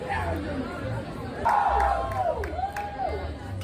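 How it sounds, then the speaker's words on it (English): A crowd outside a closing roller coaster gives steady applause and cheers to riders walking out, a continuous near wash of clapping and chatter with brief louder swells and whistle-like tones. "anybody who's walking out is getting some appreciation and applause"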